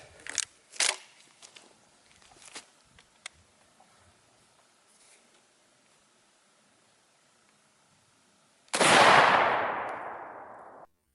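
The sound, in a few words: shotgun firing a Magnum 3-inch slug at a bowling ball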